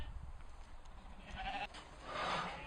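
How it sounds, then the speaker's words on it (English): A small group of sheep gathered into a farm pen for parasite treatment bleats faintly, with scattered calls rising near the end over a low background rumble. "Sheep have been gathered here"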